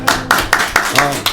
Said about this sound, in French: on applaudit les loulous, s'il vous plaît